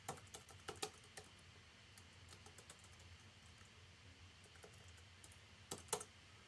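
Quiet clicks of typing on a computer keyboard in a synth studio, in scattered bursts with a louder cluster near the end, over a low background hum.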